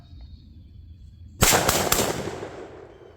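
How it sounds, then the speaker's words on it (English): A single close, loud shotgun blast from an inexpensive store-bought shotgun fired outdoors toward a rising hill, a sharp crack with a couple of quick echoes that decays into a rolling tail over a quiet background. "I'm shooting into a safe direction"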